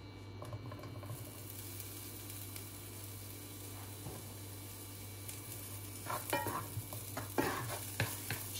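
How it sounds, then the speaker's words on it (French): Food sautéing gently in a shallow layer of olive oil in a pan, a soft steady sizzle with a low hum beneath, joined near the end by clinking and stirring scrapes. "J'ai mis un petit fond d'huile d'olive. Donc je vais laisser ça rissoler tout doucement"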